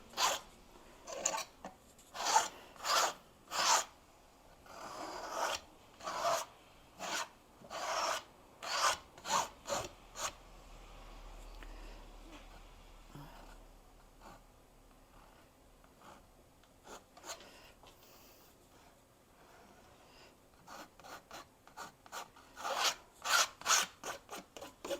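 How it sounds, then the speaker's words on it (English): Repeated scraping strokes across a canvas surface during an upcycling paint session, rasping in quick rhythmic bursts, pausing to a quiet stretch midway, then resuming with a fast series of scrapes near the end. "I'm going to just do a little scraping"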